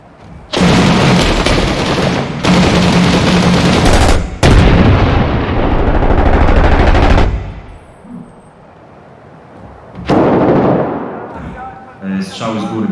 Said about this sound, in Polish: Strzały z góry